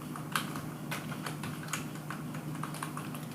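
A computer keyboard clicks as a value is entered into an Excel cell: a quick run of light, close keystrokes in an uneven rhythm over a faint steady hum.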